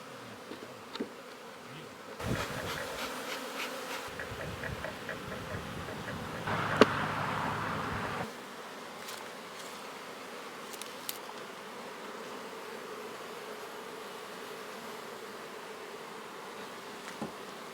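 Honeybees buzzing steadily close by while a new colony is installed, a dense insect drone with a louder burst in the middle and faint background hum throughout.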